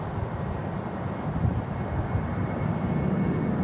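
Velocity airliner rolling for takeoff on runway 34 right at Sydney Airport, a broad, steady jet engine roar at moderate distance, with no voices.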